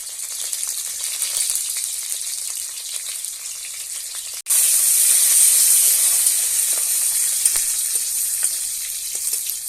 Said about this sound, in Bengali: চুনা মাছের চচ্চড়ি করতে জিরে ফোড়ন দিলাম